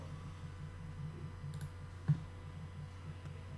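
A single crisp computer mouse click while browsing the MetaMask website, quiet and close against a low steady hum, with soft faint ticking around it and no talking.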